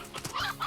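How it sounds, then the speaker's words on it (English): Rooster clucking in the video game Slime Rancher, a few short bright clucks in quick succession, close and clear with no talking. "I think I got 2 roosters."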